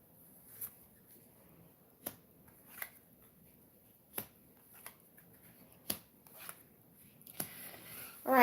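A tarot card deck being cut and shuffled by hand, with sparse, faint flicks and snaps spaced a second or so apart in a quiet room, ending in a brief riffle.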